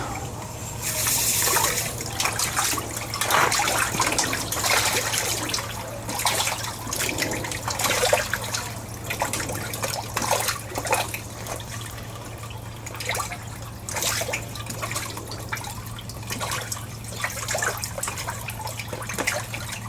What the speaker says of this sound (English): how they bust the water when it's feeding time